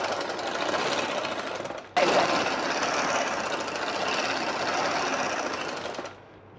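Close and loud, a sewing machine hems a trouser with a continuous fast whirr, broken by a brief pause near the start before running on and stopping abruptly.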